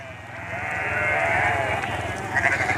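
Several sheep bleat in overlapping, sustained calls, fairly close and steady, with the noise of the flock milling underneath, on an Irish farm during shearing.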